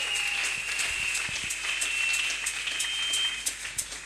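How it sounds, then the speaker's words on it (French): Church congregation at a Kinshasa convention applauding and cheering for a pastor, a dense steady wash of clapping and crowd noise with sharper claps near the end. "Et nous acclamons très très fort."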